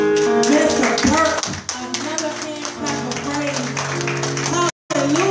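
A church congregation claps hands in praise, a steady patter of clapping mixed with sustained organ or keyboard chords and voices, with a brief cut near the end.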